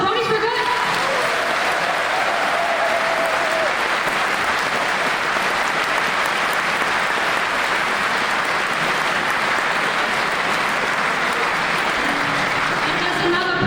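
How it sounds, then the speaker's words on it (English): Loud, sustained applause from a convention audience at a pony fan gathering, a dense wall of clapping that fills the whole stretch without letup, with faint voices mixed in. "A big applause for Bronies for Good."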